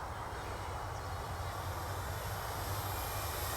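An OMP-Hobby Bighorn RC airplane on its maiden flight gives off a steady, continuous electric motor and propeller drone with no breaks, heard outdoors and fairly loud.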